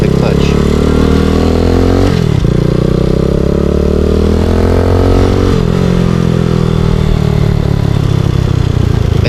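A motorcycle engine runs loud and close, revving steadily as the rider eases on the gas and lets out the clutch to pull away in first gear, with pitch dipping and rising between throttle changes.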